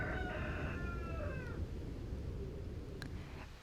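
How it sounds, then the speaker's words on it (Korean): A rooster crows once near the start in the early dawn on Jirisan mountain, a long harmonic call that fades out, followed by a steady low background rumble with a couple of faint clicks. "닭 울음소리가 알람을 대신하는 시각"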